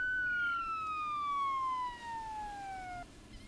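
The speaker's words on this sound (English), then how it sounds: "that deserves a siren" A siren sound effect plays during a Fortnite livestream, one long clear electronic wail that slides steadily downward in pitch for about three seconds and then cuts off, fairly quiet and with no talking.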